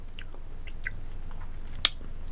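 Homemade refrigerator pickles are chewed up close, with soft wet munching and a few sharp crisp crunches, one standing out loud near the end, over quiet background noise.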